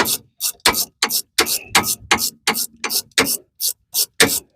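Ratchet wrench clicking repeatedly as a 10mm bolt on a MK7 Fiesta front suspension is undone, about a dozen sharp, evenly spaced, close metallic strokes.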